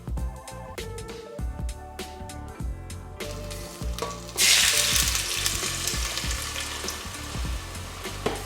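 Nigerian beef stew of blended vegetables, Scotch bonnet and tinned tomatoes frying in a pan, with a steady sizzle, occasional stirring clatter, and a louder surge of hissing partway through.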